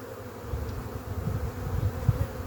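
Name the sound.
honeybees of an artificial swarm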